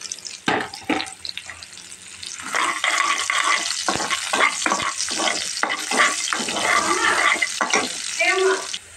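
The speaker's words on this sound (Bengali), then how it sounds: "শাকটা বাগার দেওয়ার জন্য আমি ফ্রাই প্যানে তেল দিয়েছি। এখন আমি পেঁয়াজ, রসুন, শুকনো মরিচ এটা দিয়ে দেবো।" Onion, garlic and dried chilies fry in oil in a frying pan while tempering greens, giving a steady close sizzle broken by frequent stirring scrapes and small clinks, with no talking.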